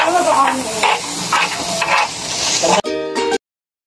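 Garlic sizzling beside samgyupsal pork on a grill, a loud steady frying hiss with stirring pulses, ending in a sharp clatter and then silence.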